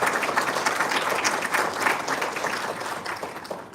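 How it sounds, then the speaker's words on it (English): Symposium attendees applaud the city manager and his team with a full burst of crowd clapping that stays strong, then slowly eases toward the end. "if you would give T.C. and his guys a round of applause"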